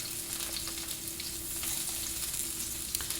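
Sausage and garlic fry in a pan, a soft continuous sizzle with light crackles and a faint stir or two, heard alone at low volume.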